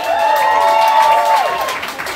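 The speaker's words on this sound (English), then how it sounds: "Let's get a big round of applause for that" A comedy-show crowd claps and cheers, with a bright sustained whistle or whooping voice rising and then dropping away above the clapping, loud and close throughout the short burst.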